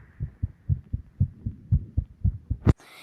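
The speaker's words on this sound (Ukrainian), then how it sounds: "Може ви почуєте, що в мене серце б'ється?" A heartbeat thuds in a Minecraft-style video game, about ten low, evenly spaced beats pulsing steadily and loudly on their own, cut off by a short sharp noise at the end.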